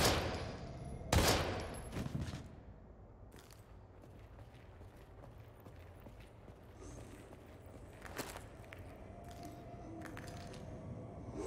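Gunfire in the survival-horror video game Daymare: 1998, with a few sharp shots standing out against a dark, rumbling game ambience.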